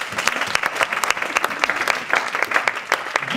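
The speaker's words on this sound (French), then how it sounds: "J'ai envie qu'on acclame le Seigneur." A church congregation applauds, steady dense clapping from many hands throughout, fairly loud and close.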